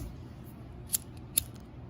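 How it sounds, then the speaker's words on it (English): Scissors snip cord for a handmade rosary bracelet, two short sharp cuts about half a second apart, close and crisp against a quiet room. "I'm going to cut it"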